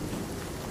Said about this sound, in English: there's the hail